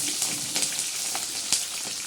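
Green chillies coated in salt fry in hot oil, giving a steady bright sizzle with small crackling pops scattered through it, close and fairly loud, with no voices.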